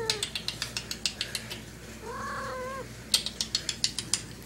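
A cat gives one short, drawn-out meow in the middle, set between runs of quick regular mechanical clicks before and after, all fairly faint and close, with no talk.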